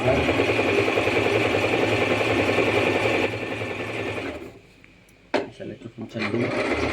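Usha Janome Stitch Magic sewing machine stitching steadily with a fast, even mechanical whir under a voice talking, then stopping, followed by a few clicks before the motor resumes.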